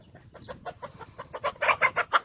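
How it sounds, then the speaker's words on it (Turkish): Chickens cluck in a quick run of short calls, growing louder and more insistent toward the end, close by. "tavukları ve civcivleri çıkarttım"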